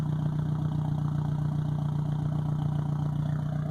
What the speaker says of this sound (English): It's got an ISIS dual tip straight, no muffler, just straight pipes from the cat.